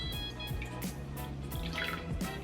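Lye water being poured for homemade cold process soap, heard as a close, quiet run of drips and small liquid splashes with irregular plops and trickling, no talking over it.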